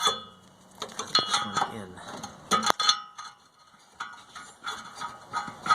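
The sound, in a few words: screwing in a new oxygen sensor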